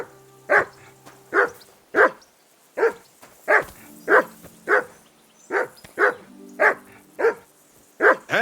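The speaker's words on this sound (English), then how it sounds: "Whistle at that mutt of yours to stop barking!" Single dog in the video game Kingdom Come: Deliverance 2 barks repeatedly, about fourteen sharp, evenly spaced barks roughly every half second, loud and close over a quiet background.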